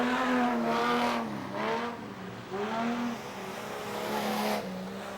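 Speedway race cars circulating around a dirt racetrack, engines rising and falling in pitch as they pass in repeated waves, loud and close with no talking.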